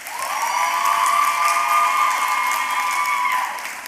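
Sustained applause and cheering from an audience at a dance arangetram, with a loud whistle-like tone held above the steady clapping.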